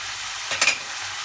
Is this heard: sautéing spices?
yes